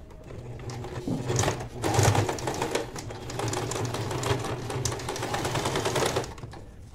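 An electric sewing machine stitches fabric for a large reinforced bag, running in steady rapid bursts close up for nearly seven seconds with brief pauses, alone without talk.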